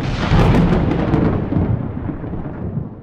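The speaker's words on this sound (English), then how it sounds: "So bam is the lightning strike." A lightning strike's thunder in the Microsoft Flight Simulator video game: a loud, close crack swelling into a deep rumble that slowly fades over a few seconds, with no talk.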